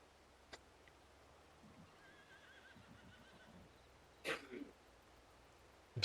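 Horses in the Farming Simulator 22 video game, with a faint whinny and soft hoof clip-clops under quiet background hum, plus a couple of brief louder bursts.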